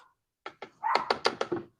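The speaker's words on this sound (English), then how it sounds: "if you guys hear barking, that's our little puppy Zeus." A small puppy barks outside in a quick run of six or seven short, sharp yaps that come after a moment of silence, fairly close and alone with no talk.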